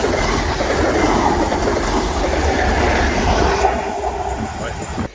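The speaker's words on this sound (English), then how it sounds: "You've got trains on the one side." A GWR train runs along a coastline, its steady rumble and rolling wheel clatter loud and continuous throughout, easing slightly toward the end.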